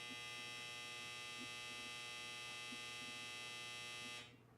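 A clothes dryer's end-of-cycle buzzer sounds as one sustained, steady electric buzz at low volume, then cuts off abruptly near the end.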